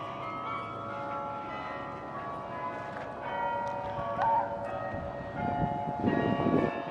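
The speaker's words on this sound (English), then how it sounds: "They're playing Christmas carols with the bells of the church." Church bells ring out a melodic Christmas carol from a distance, layered over steady outdoor background noise and low rumble.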